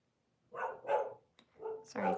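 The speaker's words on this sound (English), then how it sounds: "Sorry if you can hear my dog barking" A few sharp dog barks in quick succession, fairly close and loud, with short gaps between them.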